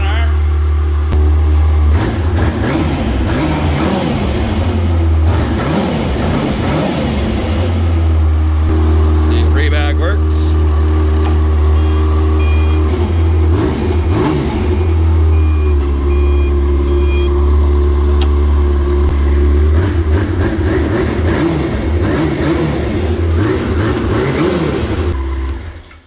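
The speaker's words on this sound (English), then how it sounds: "now we just got to fire it up and make sure everything is spinning the way it's supposed to be spinning" Yamaha Apex snowmobile engine idling and revving after a new track was fitted, the track spinning forward and backward, with a steady droning hum and rising revs, plus a brief beep-like tone and short speech.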